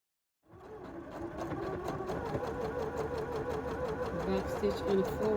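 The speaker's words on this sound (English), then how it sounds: "I am going to sew right across the top portion, right there across that little divot" A sewing machine stitches across the top of a fitted fabric face mask, running in a steady, close, continuous whir with a rapid needle rhythm from start to finish.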